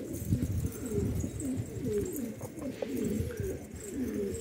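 Pigeons coo steadily in a fancier's loft, a dense layer of soft, rolling calls that overlap and repeat throughout with no talking.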